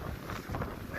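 Strong wind gusts buffeting the microphone across the open gypsum sand dunes of White Sands in New Mexico, a continuous loud roaring rumble with surging gusts and no talking.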